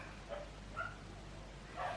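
Neighbouring dogs bark next door, three faint, distant yips spread across a quiet room, with the last a little louder.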